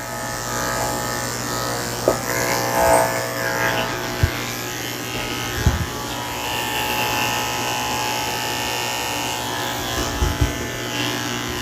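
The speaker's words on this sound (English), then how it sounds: "I'm also going to shave the inside of his back legs" Electric clippers with a 7 blade buzz steadily and close up while shaving the inside of a goldendoodle's back legs, a continuous whine with occasional soft knocks and shifts as the blade moves through fur.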